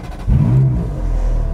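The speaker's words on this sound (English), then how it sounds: "And the 430 Scuderia fires into life." A Ferrari 430 Scuderia engine starts up, cranking briefly before catching into a loud, close rev that settles into a steady rumble.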